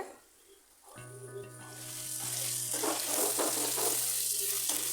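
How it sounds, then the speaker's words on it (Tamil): Marinated chicken drops into frying masala in a pan for green masala chicken gravy, setting off a rising sizzle that builds into steady, loud crackling after a quieter start, with no speech. "இப்போது மேரினேட் பண்ணி வச்சுருக்கிற சிக்கன் எடுத்து அதில் சேர்த்துட்டு"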